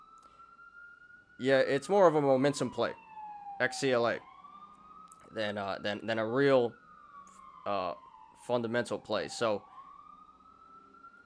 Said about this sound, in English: sorry about the sirens, guys. Just gonna talk over it.